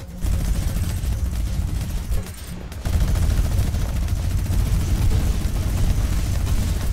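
Rapid, sustained bursts of drum gun fire in Fortnite, loud and close, broken by a brief pause before the shooting resumes harder.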